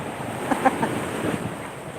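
Sea waves wash along a shoreline with steady wind buffeting the microphone, a soft, continuous surf with a few brief louder splashes.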